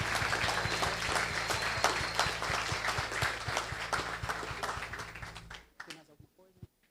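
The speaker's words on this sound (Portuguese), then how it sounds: "A salva de palmas de carinho." A church congregation claps warmly at an ordination and licensing service, with steady, fairly faint applause that continues for several seconds and then thins out into a few scattered claps at the end.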